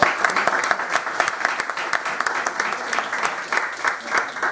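An audience applauds to welcome Dr. Augusto César Acuña, a professor at the University of Buenos Aires, with dense, steady clapping that stays strong from start to finish.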